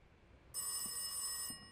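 An in-game telephone rings in the horror game Rise of Insanity, a single bright electronic trill lasting about a second, clear and close over quiet room tone.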